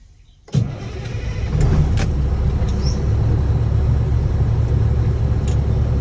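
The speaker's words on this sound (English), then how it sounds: "Now I'm gonna start the vehicle, put it on first gear" A truck's diesel engine starts abruptly, cranking into a loud, steady idle rumble that continues close by without voices, during a CDL brake system test.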